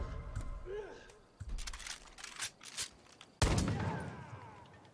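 The DIY D50 pistol firing in the video game Far Cry New Dawn, several loud, sharp, separate reports spread across a few seconds, the last one the heaviest with a long decaying tail.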